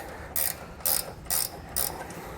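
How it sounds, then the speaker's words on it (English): A ratchet wrench clicks through four short bursts of rapid pawl ticking while tightening base plate bolts on a 2021 Jeep Cherokee, close and crisp over quiet background, no voices. "So we're going to tighten a few turns here, switch to the other side, tightening it"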